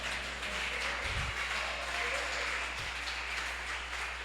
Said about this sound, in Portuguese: Aplaudir o nome do Senhor.